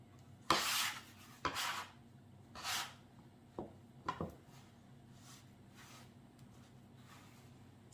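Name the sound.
mixing potato gnocchi dough with flour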